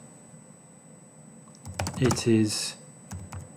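A burst of typing on a computer keyboard, a quick run of clicks in a quiet room followed by a few isolated keystrokes, with a brief spoken word in the middle.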